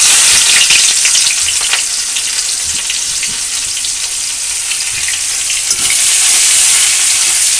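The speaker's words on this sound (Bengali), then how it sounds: "চুলায় কড়াইটা বসাই দিলাম, এখন দিয়ে দেবো পেঁয়াজ কুচি।" Chopped onions frying in a wok, a steady loud sizzle of hot oil filling the whole stretch with faint clinks and stirring scrapes, no voices.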